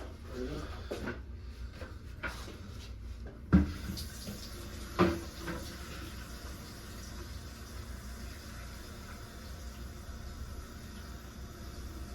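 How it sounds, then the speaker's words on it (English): Hot water tap running into a floor drain, a steady hiss of flowing water continuing throughout, with a few knocks and handling sounds near the start and a voice briefly heard. "I must turn on hot water."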